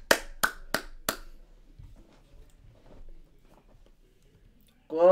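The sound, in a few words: hand clapping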